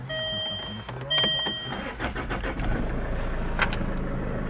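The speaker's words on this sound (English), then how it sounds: "I'm going to start the engine." A Land Rover Freelander TD4 HSE diesel engine cranks and catches, preceded by a chime and click inside the cabin, then settling into a steady, fairly quiet idle close by.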